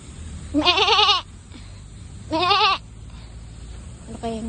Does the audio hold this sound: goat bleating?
yes